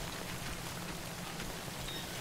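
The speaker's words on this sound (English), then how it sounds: "Alright, literally all I've had is just rain" Steady rain from the video game Death Stranding, an even wash of soft patter with no breaks and no voices.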